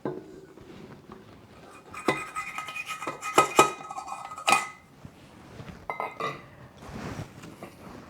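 Two and a half cups of flour and other dry ingredients go into a mixing bowl for Parker House bao buns, with clinks and knocks of a measuring cup or utensils against the bowl coming in bursts over soft background rustling.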